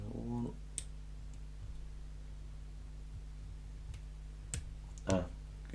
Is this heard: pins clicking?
yes